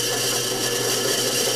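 Drill press boring slowly through thin aluminum sheet, a steady dense whirring grind that holds an even level throughout, close and continuous with no voices.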